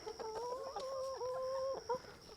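Hens cluck and murmur close by at feeding time, a short run of rising and falling calls with no talk.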